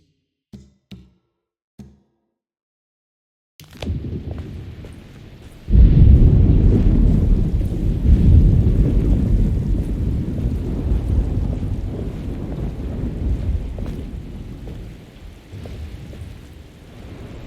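A thunderstorm with wind in the Alone in the Dark video game: a few faint clicks, then a sudden loud rush of wind and rain with a deep thunder rumble that swells and rolls on steadily to the end.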